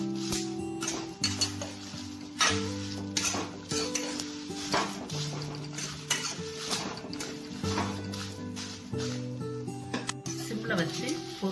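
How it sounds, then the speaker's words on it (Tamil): Curry leaves and dried chillies frying in a pan for homemade sambar powder, with soft sizzling under repeated scraping and stirring clinks of a spoon against the pan, and a voice talking over it. "கொஞ்சம் கருவேப்பிலை சேர்த்துறேன். சேர்த்து நல்லா வறுத்துறோம்."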